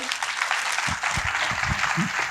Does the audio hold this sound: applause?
yes